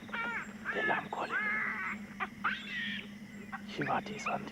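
Harsh, repeated alarm calls from wild animals in the African bush ring out in short bursts, moderately distant, with quieter background sounds between calls.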